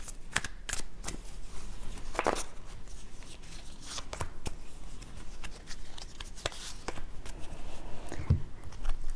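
Playing cards being shuffled and dealt out for a tarot-style fortune reading, giving soft riffling and crisp snapping flicks in scattered bursts, near and fairly quiet, with no voices.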